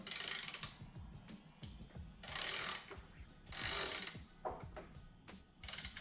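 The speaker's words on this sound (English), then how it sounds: "Torquing this down" A tool is used on a SRAM Eagle crankset bolt to torque it down. It gives close, repeated ratcheting clicks in short bursts with brief pauses between them, and nobody speaks.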